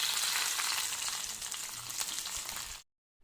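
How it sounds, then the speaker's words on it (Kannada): Raisins and cashews frying in a pan for sweet pongal give a loud, steady, close sizzle that runs unbroken for almost three seconds, then cuts off abruptly into silence. "ಈಗ ದ್ರಾಕ್ಷಿನ ಚೆನ್ನಾಗಿ ಫ್ರೈ ಮಾಡಿ."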